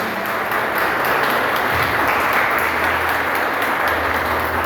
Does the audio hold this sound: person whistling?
no